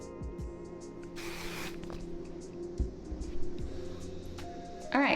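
A short hiss of hairspray being sprayed on hair styled with a curling iron, one brief burst near the start amid quiet room sounds and small handling noises.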